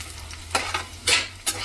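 Vadiyalu, sun-dried fritters, fry in hot oil with a constant close sizzle and a few sharp bursts of crackling spatter, and no voices.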